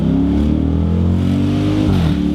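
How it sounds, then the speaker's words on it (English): A Dodge Durango SRT with an all-wheel-drive 475 hp V8 accelerates hard, its loud, steady engine note climbing and then dipping into a brief burble at a gear change. "that burble between shifts is crazy"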